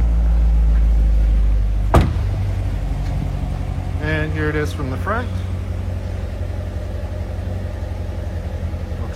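A car engine idles steadily, heard from outside the vehicle, a low continuous rumble under a door thump and a short spoken remark.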